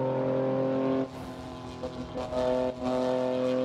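A BMW M4 CSL engine racing in Assetto Corsa, a steady high-pitched drone at speed with brief dips as it shifts gears, loud and continuous.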